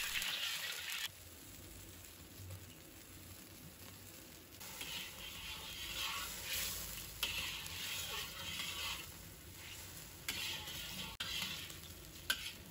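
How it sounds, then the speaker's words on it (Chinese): Scallion-oil noodle sauce simmering in an unwashed oily wok over low heat, giving a steady soft sizzle with occasional stirring scrapes throughout. "把刚才调好的料汁倒入锅中，开小火煮3分钟"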